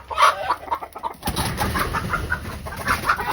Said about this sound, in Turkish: Tavuklar uçuşuyorlar